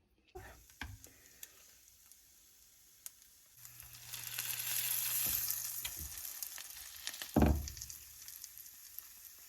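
Leftover patties warming in a frying pan for breakfast, giving a soft, fairly close sizzle that swells midway, with occasional crinkles, scrapes and a brief louder clatter near the end.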